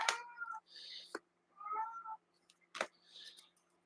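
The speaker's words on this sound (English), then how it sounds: "just ignore my cat in the background. So definitely wanting attention" A house cat meows several times in the background, wanting attention, with short separate calls spaced across a few seconds, fairly faint and alone.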